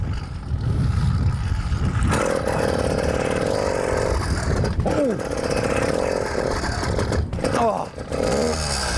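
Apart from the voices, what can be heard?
100cc petrol engine on a mountain bike revving during a wheelie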